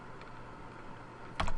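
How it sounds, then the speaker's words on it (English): A single computer keyboard key is pressed once, a short crisp click arriving near the end after a stretch of quiet room tone. "Clicking I on my keyboard"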